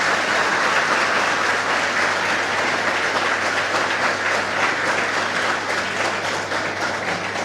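Library audience applauding to welcome the main speaker, dense continuous clapping from many hands that stays loud throughout and eases only slightly toward the end.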